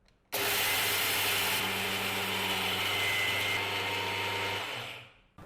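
A mixer grinder whirs loudly and steadily as it grinds dal into paruppu podi powder, running for about five seconds with a slight shift in pitch midway, then winding down and stopping.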